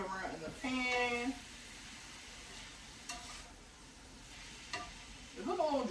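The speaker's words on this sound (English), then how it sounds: "I'm just going to move everything around the pan so you guys can see what everything's looking like" Shrimp and broccoli pushed around a hot pan, a soft continuous sizzle with a few scraping stirs, while a person talks over the start and end.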